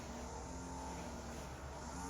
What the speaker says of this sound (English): I wrote a piece for leaf blower engines once.